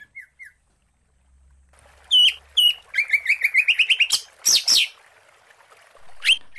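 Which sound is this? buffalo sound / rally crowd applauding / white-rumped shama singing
white-rumped shama singing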